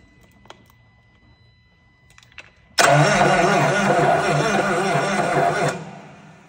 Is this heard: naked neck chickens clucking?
no